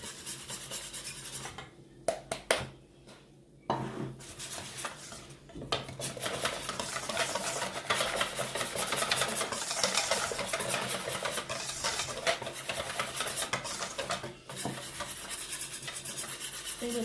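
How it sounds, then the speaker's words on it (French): Continuous scraping and rubbing of a utensil stirring eggless brioche dough in a bowl, steady and close, with brief pauses near the start, no voices. "Et je mélange bien"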